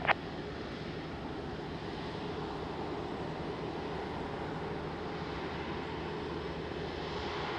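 An airliner on its takeoff roll from runway 20 at Lisbon Airport, a steady, moderately distant engine roar that stays level and unbroken throughout.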